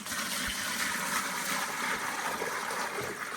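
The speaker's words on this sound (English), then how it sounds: "So what we do is put some water in first." Water gushes steadily into a bucket on a barn renovation site before a lime mix is added, a loud continuous rushing pour with no talk.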